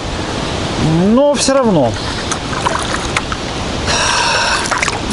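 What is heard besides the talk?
small waves hitting a kayak on a river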